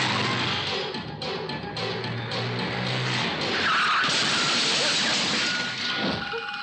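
A car races and skids with tyres squealing and engine roaring during a chase, loud and continuous, with a rising screech partway through and faint voices under the noise.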